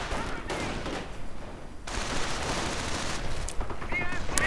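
Mounted .50 caliber machine gun fire rattles through a busy strategy game battle, dense overlapping bursts of gunfire under steady talk by a commentator.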